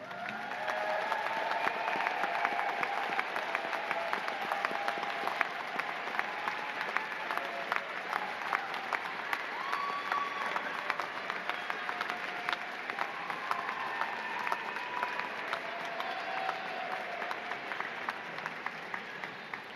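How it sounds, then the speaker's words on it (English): Sustained applause from a large audience at a university doctoral hooding commencement ceremony, steady dense clapping that holds at an even level for the full stretch with no voices over it. "salute them with your applause"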